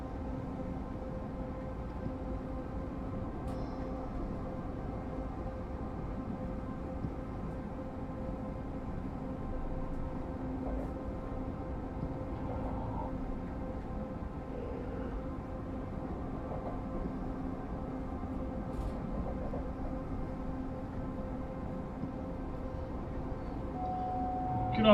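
Locomotives idle and run in Train Sim World 6, a low steady engine drone and rumble holding evenly throughout with faint clanks now and then, no voices over it.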